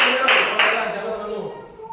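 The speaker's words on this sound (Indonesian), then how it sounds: "Tepuk tangan dulu untuk teman-teman." Schoolchildren in a primary physical education class clapping for their classmates, a short burst of brisk applause that fades within two seconds, with voices faintly mixed in.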